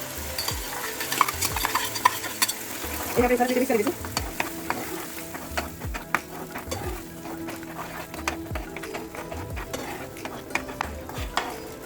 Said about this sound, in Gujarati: એમાં આપણે પાલકની પ્યુરી ઉમેરશું.